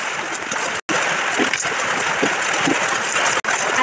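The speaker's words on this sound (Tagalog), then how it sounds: "Ang lakas po ng ulan dito sa amin," Heavy rain pours steadily as a dense, broadband hiss close by, interrupted by two brief silent gaps.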